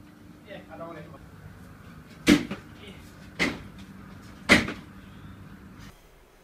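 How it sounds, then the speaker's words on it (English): A cat trying to get into a kitchen cupboard makes three sharp wooden knocks and bangs of the cupboard door, spaced about a second apart, close and clear over quiet room noise with faint voices. "She's trying to get in the cupboard."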